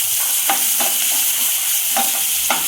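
Two cloves of garlic sauté in oil while a spoon stirs them, a loud continuous hiss of frying punctuated by several light rhythmic scrapes in the pan.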